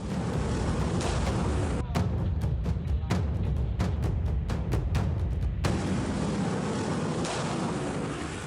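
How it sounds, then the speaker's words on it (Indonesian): A quick series of sharp police warning gunshot cracks, over a dozen in a few seconds, rings out over heavy wind-like rumble and crowd noise at an illegal street race. "Tembakan peringatan polisi membubarkan aksi balap liar yang meresahkan warga."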